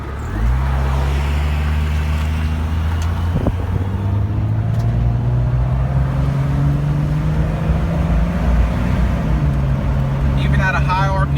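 A lifted truck drives steadily with a loud, continuous engine drone, the pitch climbing and then dropping as it shifts gears at high RPM, with road and cabin noise throughout.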